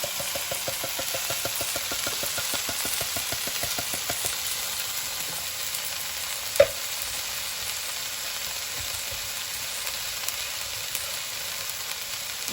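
Onions and tomatoes are stirred and fried in oil for a bacon pasta amatriciana, with a steady close sizzle, scraping stir strokes early on and a single sharp clack partway through.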